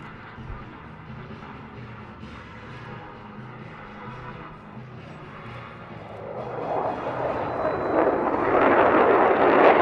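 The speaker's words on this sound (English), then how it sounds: "the F-35B and F-A-18 will execute a target reconnaissance pass" F-35B and F/A-18 jets make a high-speed reconnaissance pass at an air show demonstration, the engine roar building steadily from a distant rumble to a loud, broad rush.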